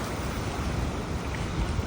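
Heavy, continuous roar of storm-driven surf and wind at a beach in Bani, Pangasinan, Philippines, broadband and unbroken, with waves crashing steadily and no voices.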